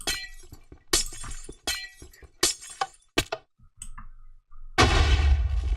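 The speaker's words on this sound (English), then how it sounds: "walk through and break the white stained glass" Repeated white stained glass blocks shatter in the Minecraft video game, several sharp glassy breaks in quick succession, then a few small clinks and a louder final burst of breaking glass.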